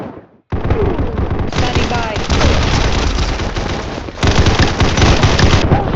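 Dense, continuous automatic gunfire from the video game Combat Master, loud and rattling with rapid bursts and shots overlapping throughout, after a brief silent gap at the start.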